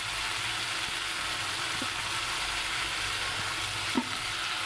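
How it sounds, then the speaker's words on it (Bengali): Spice paste with chili powder and a little water fries in a pan, giving a steady, even sizzle with occasional soft scrapes and one sharper clink of a spoon toward the end. "মশলাটা কিছুক্ষণ ভালো মতো কষিয়ে নেব"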